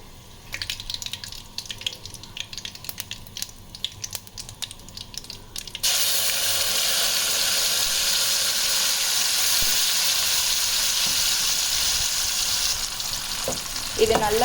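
Ground gongura paste hits hot oil already crackling with mustard seeds and curry leaves, and a quiet crackle gives way to a loud, steady sizzle that runs on without a break, with faint stirring and no talk.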